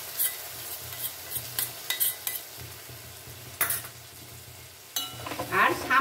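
A spatula stirs and scrapes eggplant frying in a pan with mustard-poppy paste, tomato and oil, giving irregular scrapes and clinks over a soft sizzle, close by, with no talking.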